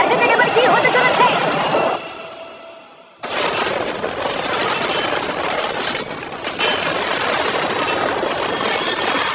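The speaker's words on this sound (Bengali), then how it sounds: "ভাই ট্রেন খুব জোরে যাচ্ছে।" A fast train roars past in a dense, loud rush of rail noise that briefly drops away and then surges back in full.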